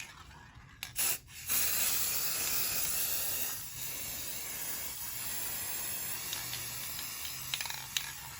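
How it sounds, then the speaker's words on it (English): A long, steady hiss of a spray can being sprayed, preceded by a couple of short clicks and bursts, continuing evenly for several seconds. "So now I'm just gonna spray these again."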